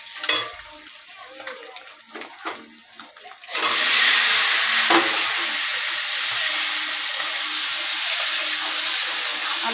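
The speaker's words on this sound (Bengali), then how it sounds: "ডিম ভাজা হয়ে গেছে" Eggs frying in a pan for an egg curry, a loud steady sizzle that starts abruptly partway through and continues to the end, with quieter scraping and clinks before it.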